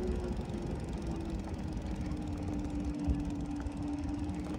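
An Ariel Rider RIDEAL e-bike motor strains uphill at full throttle, a steady mid-level electric whine with a faint tonal hum over constant low rumble and wind noise, no talking.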